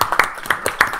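Scattered hand clapping from an audience at a union meeting, a few sharp close claps in an uneven rhythm over about a second.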